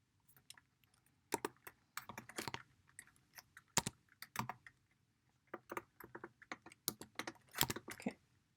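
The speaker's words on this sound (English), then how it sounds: "Whoa, wild typing." Fast typing on a computer keyboard, with irregular bursts of sharp clicking keystrokes close up, brief pauses between runs, against a quiet background with no talk.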